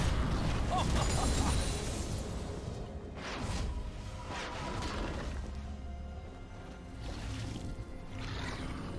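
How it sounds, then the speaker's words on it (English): A turret crumbling in a League of Legends match: a loud crashing, smashing burst with whooshing debris, thuds and watery splashing effects layered over busy game action throughout. "Team's turret has been destroyed."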